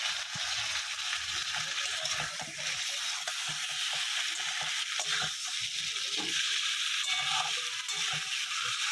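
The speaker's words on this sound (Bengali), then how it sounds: "পেঁয়াজটা ভাজা ভাজা হয়ে গেছে বেশ ভালোই চিকেনটাকে দিয়ে দিই" Chicken marinated in cumin, coriander, pepper, ginger and garlic paste fries in a pan with browned onions, giving a steady close sizzle broken by scraping stirs of a spatula.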